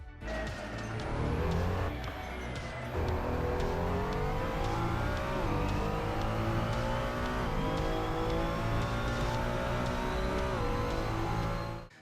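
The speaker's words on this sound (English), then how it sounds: "So that was a lap around Spa with the Ferrari 296 GT3" A Ferrari 296 GT3 races around Spa-Francorchamps in the Assetto Corsa racing game, its engine climbing through the revs with repeated upshifts, loud and continuous with no talk.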